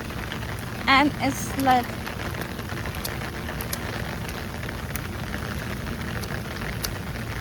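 Rain falls steadily during a walk in Canada, a constant close hiss of drops with scattered sharper taps, while someone briefly speaks over it.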